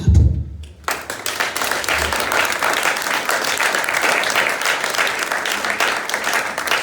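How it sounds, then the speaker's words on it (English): Audience at a formal gathering in Liberia breaks into a resounding round of hand clapping after a brief low voice at the start, the applause building quickly and holding dense and steady. "by giving them a resounding hand clap."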